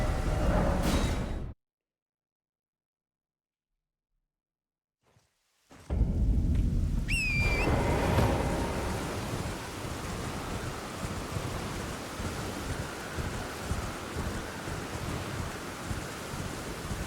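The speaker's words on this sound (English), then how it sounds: "Is it always raining in Dragon Barrow?" Rain and thunder in Dragonbarrow in the video game Elden Ring, a broad, heavy wash of rain with low rumbling after a few seconds of complete silence, steady and close with no talking.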